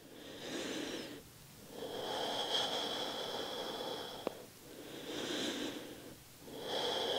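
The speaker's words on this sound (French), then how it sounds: "Quelques respirations de plus." Slow, deep breaths during a dynamic yoga session, several long inhale-exhale cycles with soft gaps between them, close and steady, with no talking.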